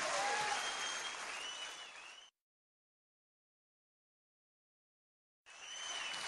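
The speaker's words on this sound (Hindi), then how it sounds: "आप सब लोग जोरदार ताली इसलिए बजाएं" An audience at a company gathering claps in loud, sustained applause that cuts off into a silent gap, then resumes just as strongly.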